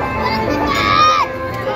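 A crowd gathers at the Baba Balak Nath festival bhandara in Jakhu, a brief, close murmur of many mixed voices, some of them children's, with one voice rising and falling above the rest.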